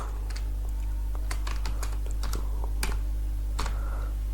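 Web design code is typed on a computer keyboard in Windows Notepad: irregular, crisp keystrokes in short bursts with brief pauses, up close over a constant low hum, with no talking.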